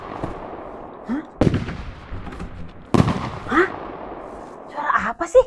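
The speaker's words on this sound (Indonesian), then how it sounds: "Suara potong kuku kayak suara petasan." Two loud, sharp cracks like bursting firecrackers ring out as nail clips, separated by quieter rustling, with brief chirpy voices near the end.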